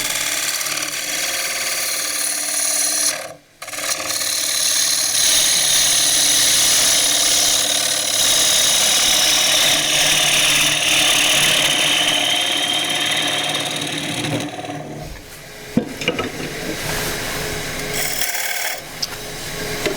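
Gouge cutting a tray on a wood lathe, a steady close rasping scrape of wood shavings with a brief pause near three seconds and choppier, intermittent cuts toward the end.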